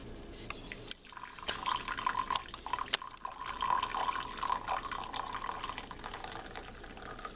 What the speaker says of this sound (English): We're ready to pour our coffee in.